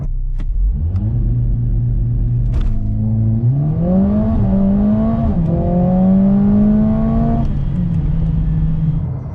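A 2020 Mercedes-AMG A 45 S, an all-wheel-drive turbocharged hatchback, launches hard from a standstill. The loud engine drone climbs steadily through the gears, with a brief dip at each shift, and it keeps rising for several seconds before it eases off.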